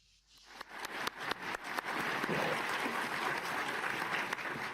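An audience applauds a presidential speech to world leaders at Davos, the clapping starting sparse and building quickly into dense, sustained applause from a large crowd.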